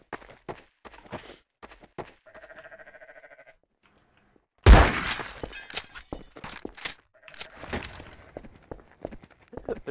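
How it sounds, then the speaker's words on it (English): Glass shatters with a loud, sudden crash inside the Garry's Mod game after an E-gun shot, followed by scattered tinkling debris and brief in-game noises, preceded by short taps and a faint tone. "I wonder, can the E-gun break glass?"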